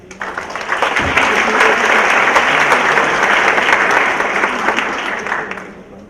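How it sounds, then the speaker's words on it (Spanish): An audience at a university presentation on dentistry employment bursts into loud, sustained applause that swells quickly, holds steady and then tapers off near the end. "Para ellos les pido por favor un fuerte aplauso."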